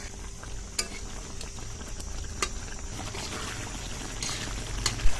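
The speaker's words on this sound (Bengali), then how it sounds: "পেঁয়াজটা দিয়ে আরও 3-4 মিনিট রান্না করে নিতে হবে।" Onion-and-curry gravy simmering in a pan after fried onions are stirred in, giving a steady low sizzle and bubbling with occasional sharp clicks and scrapes of stirring, fairly close and continuous, with no talking.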